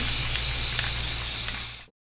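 A spray paint can hisses out dark green paint onto a tumbler in one steady, loud, close burst of nearly two seconds that cuts off abruptly.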